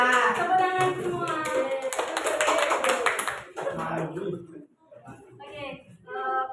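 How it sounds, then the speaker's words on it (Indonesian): Students in a classroom clap together on a teacher's cue, a dense close burst of many hands that fades after a few seconds into a talking voice. "Tepuk tangan semua."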